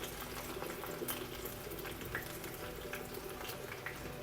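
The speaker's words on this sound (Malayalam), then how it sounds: "ഉള്ളി മൂത്ത് വരുന്നുണ്ടേ" Small sambar onions fry in hot oil with popped mustard seeds in a small pot for a pumpkin curry with roasted coconut, giving off a steady, even sizzle with faint crackles. There is no talking.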